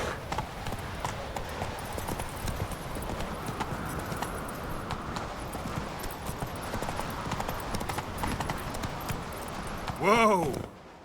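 A horse's hooves clip-clop in a quick, steady rhythm on the ground in The Witcher 3, ending in a brief loud neigh from the horse.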